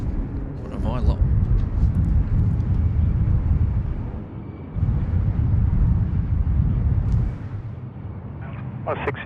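Aircraft 652 at Sydney Airport on a missed approach: a deep, sustained engine rumble that swells, dips briefly and returns, with people talking over it.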